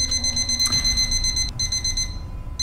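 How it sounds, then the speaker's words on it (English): Electronic alarm clock ringing inside a video game, a steady high beeping tone with a brief interruption midway, moderately loud and heard alone without talk. "Oh no, that's the alarm clock."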